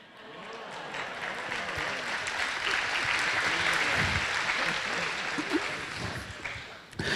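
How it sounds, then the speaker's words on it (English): An audience claps during a talk, the applause swelling to a broad, steady roar over several seconds before thinning out near the end. "You guys were clapping because you thought no."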